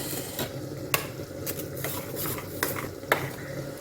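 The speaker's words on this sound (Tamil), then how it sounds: "இந்த மாதிரி கலக்கி வச்சுக்கலாம் தயிரோடு கலக்கி வச்சுருக்காங்க" Ground coriander, chilli and cumin paste being stirred into curd, a steady soft scraping with several sharp spoon clicks against the bowl, close and fairly quiet, no voices.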